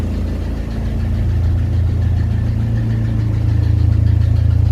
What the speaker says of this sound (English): That noise is coming from the fan.